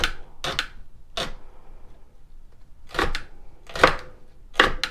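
A knife mincing Thai green curry aromatics on a cutting board: crisp, percussive chops arriving in uneven clusters, some in quick doubles, with short pauses between, close and fairly loud without talking.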